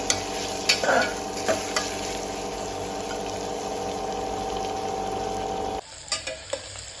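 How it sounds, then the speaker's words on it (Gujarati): Crushed garlic fries in a pan for a broken-wheat thuli, a constant loud sizzle punctuated by several spoon clinks and stirring scrapes, softening briefly near the end. "લસણ નાખીશું, વાટેલું લસણ છે. હવે એને થવા દઈશું થોડી વાર."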